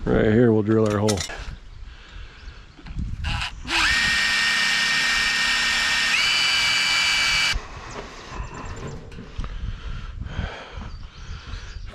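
A power drill bores a hole in a wooden post, whirring loudly for a few seconds, its pitch stepping up midway, surrounded by clattering and handling noises before and after.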